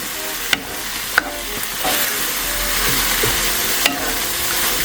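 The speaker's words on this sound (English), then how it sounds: "we're going to constantly stir this on a low heat" Chicken in soy sauce and sugar stirred constantly in a pan over low heat, with a continuous loud sizzle and a few sharp clicks of the utensil against the pan, close up.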